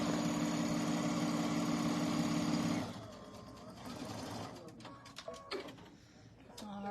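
Sewing machine stitching out quilt blocks for a tote bag, a loud steady mechanical whir running for about three seconds before stopping, followed by quieter handling noises and faint talk.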